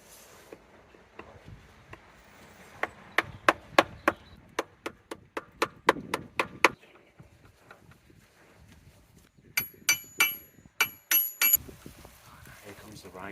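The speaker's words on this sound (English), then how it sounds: "I found something that's probably going to split in half instantly" Wood being chopped with sharp, evenly spaced whacks in two bursts, a first run of about a dozen strikes and then a quicker cluster after a pause, ringing bright and close against a quiet outdoor background.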